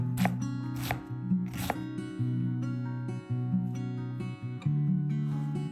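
A knife chops half a cabbage into pieces on a board, with a few sharp, evenly spaced thuds at first, then lighter, quicker cuts, all under steady background music.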